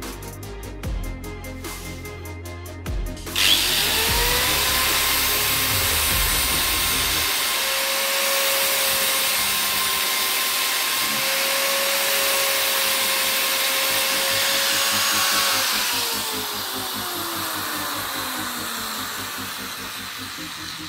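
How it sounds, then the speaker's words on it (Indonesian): A handheld grinder works inside the hole of a pump handle, its whine rising to a steady high-pitched grind for about twelve seconds with shifting tone as the disc bites, then winding down. No one speaks over it. "kita beri contoh pengikisan sedikit dengan gerinda"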